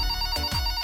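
A telephone rings in a brief, clear electronic tone, close and steady with no voices.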